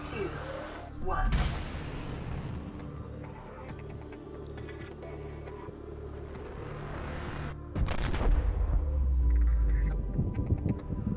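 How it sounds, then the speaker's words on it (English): A life pod launch explosion in Subnautica: a deep, rumbling roar with sharp bursts of noise and heavy low throbbing that swells louder toward the end. "Explosion."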